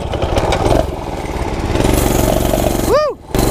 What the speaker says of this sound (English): This is mini bike versus moped.